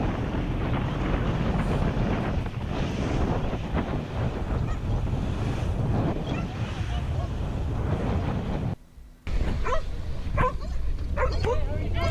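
Dogs barking and yipping aboard a boat during a sea rescue, with wind buffeting the microphone, water noise and people talking throughout, and a brief dropout near the end.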